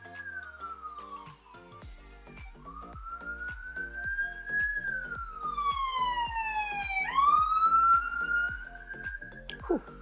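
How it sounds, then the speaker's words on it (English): A police siren wails and sweeps up and down, rising as it passes fairly close and then fading. A steady ticking rhythm and talk continue underneath. "Oh, I can hear a siren in the distance."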